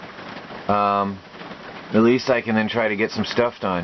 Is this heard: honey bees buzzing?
no